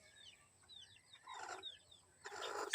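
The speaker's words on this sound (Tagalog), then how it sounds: "So dito sa hen na to, may 8 eggs tayo dito at may isang sisiw." Serama hen with a newly hatched chick, soft high peeping chirps in a short series with a few low clucks, faint and close in a quiet setting.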